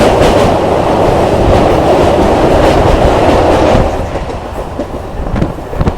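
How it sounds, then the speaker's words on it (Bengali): A MEMU passenger train runs on rails near Ambalgram between Katwa and Ahmadpur, with a steady loud rumble and rhythmic clickety-clack of the wheels that eases slightly toward the end. "আমাদের ট্রেনটা বাঁদিকে টান নিয়ে চলে যাবে"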